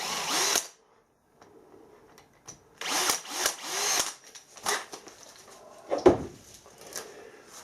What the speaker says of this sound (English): we just start the drill